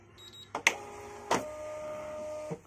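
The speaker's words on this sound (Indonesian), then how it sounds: "kita nyalakan unit printer dulu tombol on di belakang oke sudah nyala" An XP Bluetooth thermal receipt printer switching on: a few sharp clicks and clunks from the mechanism, then a steady high electronic tone and low hum as it feeds, ending with another click, close by.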